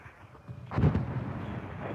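A single deep, muffled thump of mortar fire in the wartime strategy game WARNO, mid-distance and followed by a low rumbling tail over steady background noise.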